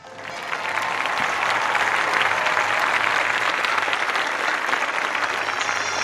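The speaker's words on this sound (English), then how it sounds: "Let's have a round of applause for him." An audience gives a round of applause at a Mario Tennis Open exhibition event, dense, sustained clapping that swells in quickly and holds steady at full volume.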